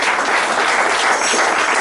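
A concert audience applauds a harmonica player from an amateur reed ensemble. The clapping is dense, loud and continuous, with no voices over it.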